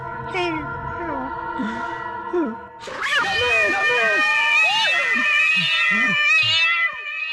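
A cat meows repeatedly, several drawn-out, wavering cries that grow louder and more insistent partway through, sounding close by over steady background sound.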